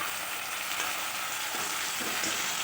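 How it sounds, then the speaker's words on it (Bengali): Tomatoes frying in a pan over garlic, onion, dried chilli, cumin, garam masala and asafoetida for an Echor (jackfruit) kofta curry: a steady close sizzle with soft stirring scrapes toward the end. "ভাজা হয়ে গেছে, এবারে দিয়ে দিলাম টমেটোগুলো"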